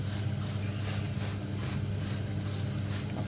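A spray bottle mists onto boiling wort in a homebrew kettle, firing about eight short, evenly spaced hissing bursts over a steady low rumble from the boil.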